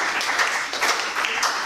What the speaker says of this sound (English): you can clap for that, please.